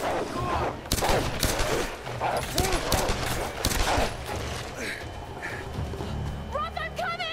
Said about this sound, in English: Is somebody shooting at me?